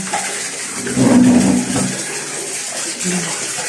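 Water runs steadily from a tap while a pet is bathed, a continuous wash that swells louder for a moment, with faint voice sounds mixed in.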